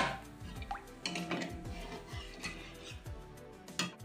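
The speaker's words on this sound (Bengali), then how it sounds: "এবার বাকি ডালটা ঢেলে দেব।" Lentil dal is poured into a pan of spices, making wet, splattering plops and drips with light clinks of the pan. The sound is close and fairly quiet.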